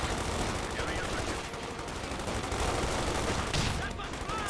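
Rapid bursts of gunfire and machine-gun rattle from the Company of Heroes 2 battle game, loud and dense, overlapping in quick volleys with explosive cracks and a constant battlefield din.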